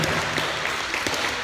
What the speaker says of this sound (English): If y'all want to give Coach Brooks a big round of applause